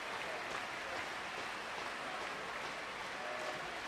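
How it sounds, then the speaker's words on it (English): A British crowd at a Paralympic table tennis gold medal match in London cheers and applauds, a dense, steady wash of clapping and roaring that fills the whole clip. "the great British crowd, they're roaring in delight"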